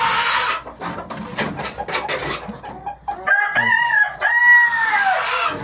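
Chickens and a rooster in a cold-weather coop cluck and squawk close by, with a loud drawn-out crow rising near the end over a busy background of fowl chatter and no talking.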